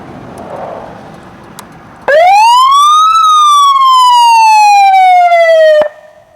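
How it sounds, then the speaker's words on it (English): A Federal Signal electronic siren plays a traditional wail: after a brief quiet start, a loud tone sweeps up, peaks, then slides slowly down over about four seconds before cutting off abruptly. "This siren has a traditional wail up and down sound."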